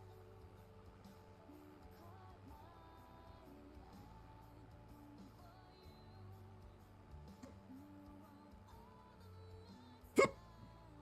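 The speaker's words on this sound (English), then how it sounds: "I've got hiccups." One sharp, loud hiccup jolts out near the end over a quiet bed of soft, steady tonal game music, with no other voice sounds.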